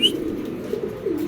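A male floor-touch Mundian pigeon gives a low, continuous throaty coo, close and moderately loud, with a brief high chirp at the very start.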